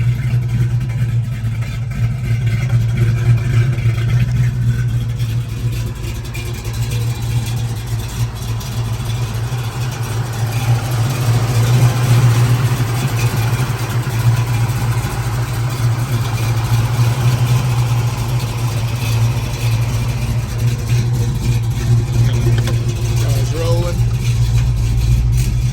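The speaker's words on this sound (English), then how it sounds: "the engine that's in this car is a little hotter than factory. Got a bigger cam in it." A 1968 Shelby GT500KR with a four-speed and a hotter-than-factory engine with a bigger cam idles with a deep, lumpy, steady rumble, swelling slightly at moments, while voices talk over it.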